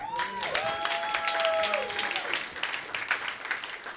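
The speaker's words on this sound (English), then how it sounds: "Round of applause for Tristan." Audience at a live podcast show applauding, a moderate clapping wash with cheers and voices rising over it, fairly close and fading toward the end.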